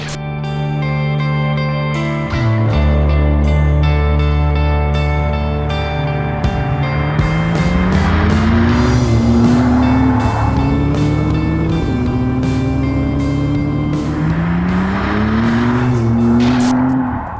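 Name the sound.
McLaren Artura sports car driving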